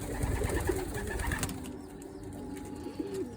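Low, throaty pigeon coos roll out at close range in a loft, a couple of calls separated by quieter rustling and ambient noise, with no one talking.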